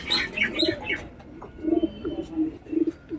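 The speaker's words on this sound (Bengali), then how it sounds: "প্রচুর লং সাইজ পায়রা দেখতে পাচ্ছ তো বন্ধুরা" Pigeons of a long-bodied breed, giribaz and Madras types kept at a home loft, coo in soft low repeated phrases with a few chirps, fairly near, between short pauses.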